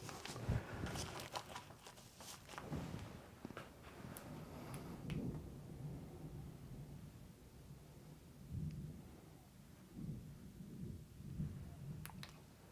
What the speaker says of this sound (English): Can you hear the storm outside?